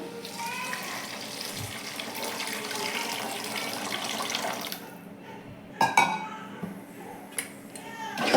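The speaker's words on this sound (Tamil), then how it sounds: "இப்போ வந்து கரைச்சி வச்சுருக்கிற புளியை ஊற்றிக்கலாம்" Tamarind water pours steadily into a pan for several seconds for a garlic kuzhambu, then stops, followed by a few sharp metallic clanks of cookware.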